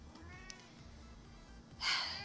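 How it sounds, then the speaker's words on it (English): A pet cat meows softly a couple of times, then gives a louder, breathier meow near the end, heard alone in a quiet room. "This is my cat."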